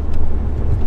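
A BMW Z3 M's engine hums steadily while the car is driven, a close, loud, continuous drone with road noise and no talking.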